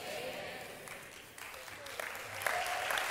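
Church congregation applauding during a sermon, a steady wash of many hands clapping at a distance, fairly soft, with voices heard through it.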